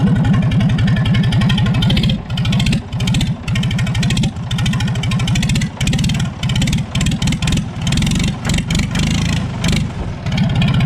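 A Ford 3000 tractor engine without a muffler revs loudly up close, its raw exhaust bark surging and dipping in uneven bursts.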